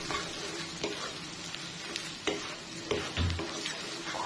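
Mixed vegetables dropped into hot mustard oil with garlic and fenugreek seeds, giving a steady broadband sizzle with a few sharper stirring scrapes and pops, close and moderately loud, no voices.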